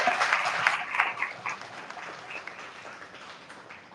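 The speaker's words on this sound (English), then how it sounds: "So another big round of applause" A meetup audience at a FOSS United gathering in Hyderabad claps for a speaker's first talk, a burst of applause that starts fairly strong and thins out gradually over a few seconds.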